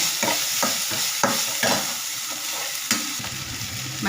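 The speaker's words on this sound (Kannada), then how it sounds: "ರುಚಿಗೆ ತಕ್ಕಷ್ಟು ಉಪ್ಪು ಹಾಕ್ಕೊಳ್ಳೋಣ ನೋಡ್ಕೊಂಡು ಹಾಕ್ಕೊಳ್ಳಿ ಚೆನ್ನಾಗಿ ಒಂದು ಫ್ರೈ ಕೊಡಿ" Chicken frying in a pan with salt added, a loud close sizzle broken by repeated scraping strokes of a spoon stirring the pieces, with no talk.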